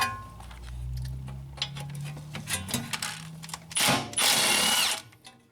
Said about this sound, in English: So I'm just going to hammer it with my impact